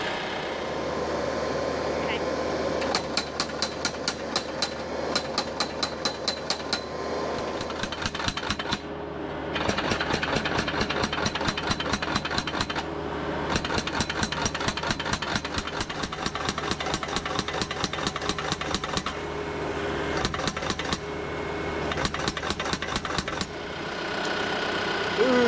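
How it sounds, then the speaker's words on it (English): A tractor engine idles and revs while a tractor-mounted post driver hammers fence posts into the ground in rapid rhythmic bursts, pausing and resuming several times, loud and close. "we got our first 3 posts driven with the post driver"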